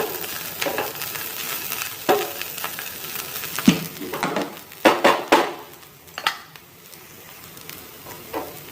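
Bitter gourd slices frying in a pan while being stirred, giving a steady sizzle broken by irregular scraping strokes and clacks of a spatula against the metal, fairly close and with no voices.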